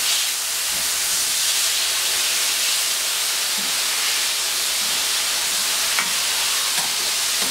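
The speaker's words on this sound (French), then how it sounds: "avec le scraper, vous voyez, on frotte en même temps" Long-handled scraper rubbed across a hot plancha after grilling chicken, a continuous loud steamy hiss and sizzle with faint scraping under it, no voices.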